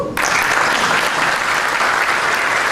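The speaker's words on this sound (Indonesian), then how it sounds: "tepuk tangan dulu" Audience at a young entrepreneurs seminar breaks into loud, dense applause that starts abruptly and holds steady and close throughout.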